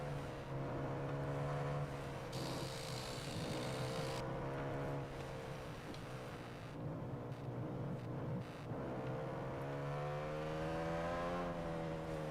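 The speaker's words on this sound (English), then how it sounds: "playing with the throttle sound there. One throttle sound through the slow corners." A racing motorcycle in TT Isle of Man 2 holds a loud, steady engine drone, with the throttle note rising and falling through slow corners and a brief higher whine partway through, continuous with no talk.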